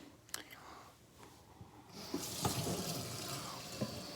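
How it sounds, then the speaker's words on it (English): A kitchen tap runs into a small cooking pan, starting with a few light clinks and drips before the stream opens into a steady rushing fill that continues to the end, with faint whispering underneath. "so let's put some water in there."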